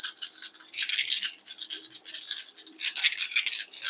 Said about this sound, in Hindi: डाइस रीडिंग करेंगे और डाइस की आवाज़ पे आपको फोकस करना है